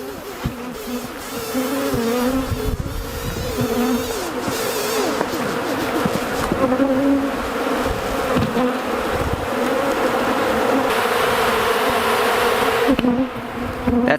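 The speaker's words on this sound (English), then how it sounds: "That's the sound of a hive that is not happy." An agitated honeybee hive hums with dense, loud, continuous buzzing close by, rising slightly in intensity and holding steady for the whole stretch, with no talk.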